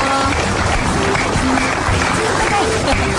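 Steady, dense applause from a television studio audience fills the whole stretch, loud and continuous without a break.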